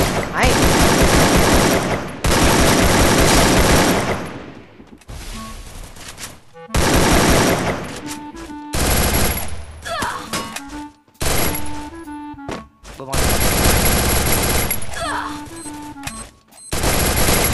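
An AK47 fires in Free Fire in loud bursts of rapid automatic gunshots, several volleys separated by short gaps with brief tonal game effects between them.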